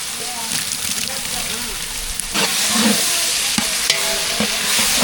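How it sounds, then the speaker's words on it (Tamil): Semolina sautés in a pan and is stirred for kichadi, a dense close sizzle with scraping stir strokes that grows louder partway through, while a voice talks over it. "இப்போ ரவை வந்து அப்படியே வதக்கி எடுத்துக்கலாம் நல்லா வதங்கட்டும்"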